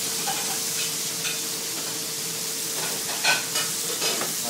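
Leek sizzling steadily in a hot frying pan, a dense continuous hiss with a few brief stirring scrapes near the end, close and alone without talk.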